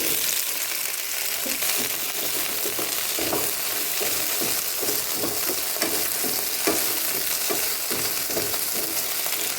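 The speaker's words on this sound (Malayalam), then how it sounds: "ഇനി നന്നാക്കി വെച്ചിരിക്കുന്ന ചെറിയുള്ളിയും വെണ്ടയ്ക്കയും എണ്ണയിലിട്ട് വഴറ്റിയെടുക്കാം." Shallots and okra sautéing in coconut oil for sambar, a steady close sizzle with rhythmic scraping and stirring strokes throughout, no voices.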